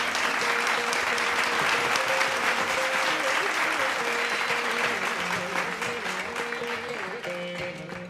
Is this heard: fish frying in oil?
no